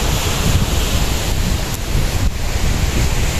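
Sea waves break and wash continuously along a sandy beach, loud and close, with a rough rush of surf and wind buffeting the microphone. No voices.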